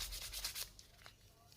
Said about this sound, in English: now I'm doing the sanding